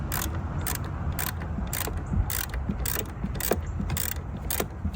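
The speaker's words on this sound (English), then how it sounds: "we're going to go ahead and disconnect the negative battery terminal" A wrench ratchets loose the 10mm nut on the negative battery terminal of a Ford Fiesta, giving a close, steady series of about nine clicking strokes with no voices.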